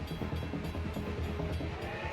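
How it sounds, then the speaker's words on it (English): A heavy steam locomotive rumbles steadily as it arrives, with a dense, continuous low roar and a faint hiss, close and loud throughout. "The Reading train is about to arrive."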